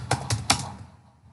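Three sharp keystrokes clack on a computer keyboard while code is typed, close and fairly loud, followed by a quiet tail.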